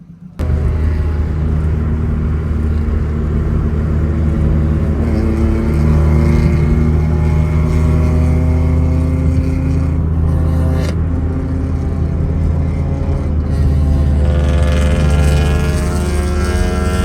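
A car cruising steadily at 80 km/h in a wedding convoy near Dharmapuri gives a continuous loud engine and road rumble with a low, even drone throughout.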